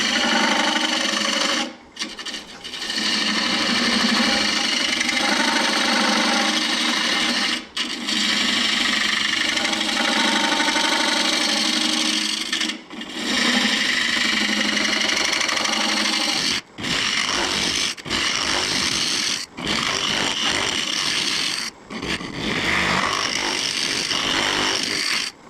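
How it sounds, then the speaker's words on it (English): A fingernail gouge cuts into a spinning myrtle wood bowl on a lathe, giving a loud, steady broadband rasp that runs continuously with brief breaks as the tool lifts off the wood. "I'm going to use my little fingernail gouge"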